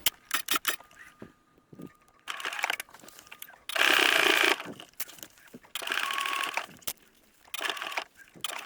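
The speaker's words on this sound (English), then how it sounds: "I'm back stitching at that super thick seam and I'm going super slow" A sewing machine backstitches slowly through a super thick, bulky jeans seam at the waist, running in several loud bursts separated by pauses, with quieter handling noises in between.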